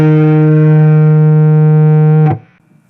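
Electric guitar through a Fender Duel Pugilist distortion pedal on a dark setting, one sustained distorted chord ringing loud for about two seconds before being cut off.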